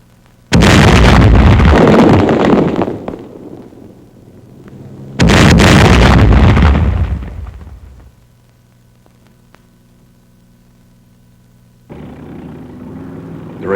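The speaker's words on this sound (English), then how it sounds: "Again, German mines in the road lend their force to the explosion." German road mines set under a log roadblock detonate in two heavy, deep blasts a few seconds apart, each with a long rumbling decay, followed by a quieter low rumble at the end.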